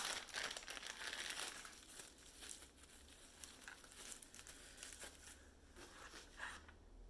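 Packaging for a rose gold Babe Lash eyelash curler is torn open, with close, quiet crinkling and crumpling of wrapper material in continuous rustling bursts.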